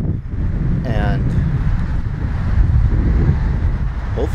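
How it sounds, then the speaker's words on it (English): Strong wind at a kite surfing competition in Cancun buffets the microphone with a steady low rumble and roar throughout, and a brief voice-like sound rises faintly near the start. "It has been extremely windy"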